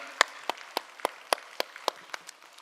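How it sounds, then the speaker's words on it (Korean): A church congregation applauds in a steady, even rhythm, about ten crisp claps in under three seconds. The clapping is moderately loud and close, with no talking over it. "감사와 격려의 박수하겠습니다"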